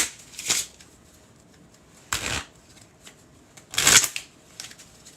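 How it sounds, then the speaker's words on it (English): A deck of playing cards shuffled fancily up close, three quick riffling bursts with short pauses between, crisp and fairly loud with no talk. "Do a little fancy shuffle."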